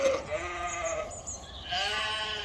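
Sheep and lambs bleat on a farm, several overlapping calls close by, some higher-pitched, with a steady rural background and no talk.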